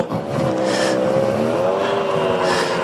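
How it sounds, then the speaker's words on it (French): A rally car engine idles and hums steadily at close range, with faint voices briefly audible in the background. "va arrêter le moteur, autrement on ne va pas l'entendre"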